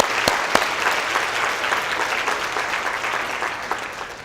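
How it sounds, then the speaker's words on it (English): An audience of women at a dinner speech event claps together in steady applause, with a few sharp nearby claps standing out early and the sound tapering slightly toward the end. "Let's give ourselves a round of applause."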